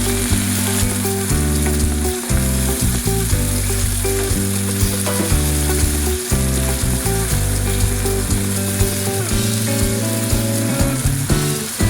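Tomatoes sautéing with ampalaya (bitter gourd) and corned beef in a pan as a Filipino gisa stir-fry, giving a loud, continuous sizzle and fry that runs beneath strong, steady background music.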